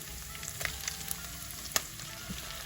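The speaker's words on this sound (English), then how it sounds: "I'll let this fry up and saute for about a minute or two." Steady oil sizzle of shrimp and onions frying in a pan for pepper shrimp, with a few soft clicks and pops, continuous and close.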